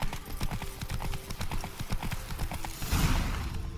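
Steady clip-clop of Roach, Geralt's horse in The Witcher 3, trotting in an even rapid rhythm, close and clear, with a brief swell of noise near the end as the horse is reined in.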